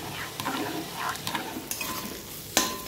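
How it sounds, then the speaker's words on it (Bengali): Chicken mince sautéed in a pan for chicken khichuri, a soft continuous sizzle under repeated scraping and stirring clinks of a utensil against the pan, close and moderately quiet, ending in a louder metallic knock. "তার সাথে কিন্তু আমি মাংসটাকে কষাচ্ছি"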